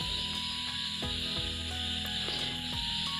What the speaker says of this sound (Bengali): এখন কথা বলতে বলতে আলুগুলো কিন্তু বেশ ভালোভাবেই আমি ভেজে নিয়েছি।